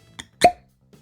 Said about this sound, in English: Excellent cork pop.